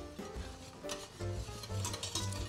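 Fast, steady scraping and clinking of a spoon stirring a milk sauce in a pot for lasagna, with rhythmic swirling strokes close by and no talking.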